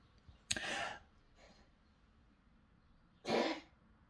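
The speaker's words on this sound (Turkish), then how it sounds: "Ne oldu benim ya kedim? Öksürdü." A cat gives two short, harsh coughs a few seconds apart, with a faint breathy sound between them, in an otherwise quiet room.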